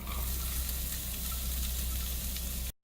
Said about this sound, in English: Now we will add the onions.